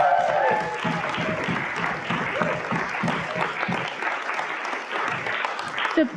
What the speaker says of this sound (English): can we give them a huge round of applause as well?